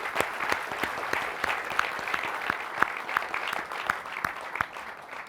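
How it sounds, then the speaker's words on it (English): Steady applause from a seated audience at the Google Instant launch event, dense and continuous clapping at moderate distance for several seconds, with no speech over it. "I'd like to give them a round of applause"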